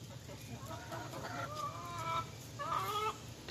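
Backyard chickens, including a Sussex hen, cluck softly in short, irregular calls over a low background hum, fairly faint and a little distant, with no talking.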